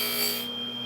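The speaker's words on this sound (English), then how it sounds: "I'm taking down depth gauges on chainsaw chains" A file rasps over the depth gauges of a chainsaw chain, a brief close scraping stroke with steady tonal ringing.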